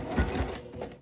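A sewing machine runs a short, steady burst of close stitching along the waistband lining of a floral sundress, with a dense mechanical whir.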